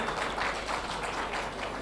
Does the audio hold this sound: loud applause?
yes